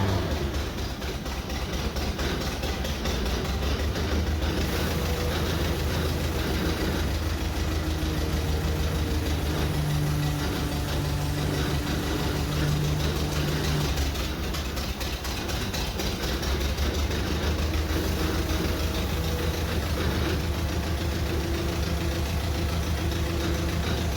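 An International 93 combine engine idles steadily on a little choke, a continuous rough low rumble that stays close and even throughout with no voices.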